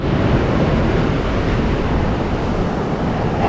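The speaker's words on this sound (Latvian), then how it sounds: "ir ļoti stiprs vējš" Strong wind blows at the seaside, a loud continuous roar of gusts buffeting the microphone with surf mixed in, steady and close for the whole stretch.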